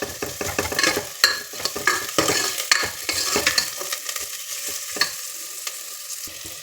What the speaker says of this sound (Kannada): ಈರುಳ್ಳಿ ಕಂದು ಬಣ್ಣ ಬರೋವರೆಗೂ ಫ್ರೈ ಮಾಡ್ಕೊಳ್ಳೋಣ